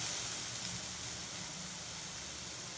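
Curry leaves, green peas and groundnuts sautéing in a pan for sevai, a soft, steady hiss and sizzle held throughout and heard alone.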